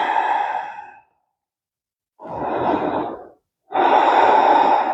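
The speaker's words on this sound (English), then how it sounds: "And breathe." Deep exhaling breaths during a yoga flow, three long audible breaths separated by brief silences, close and clear with no talking.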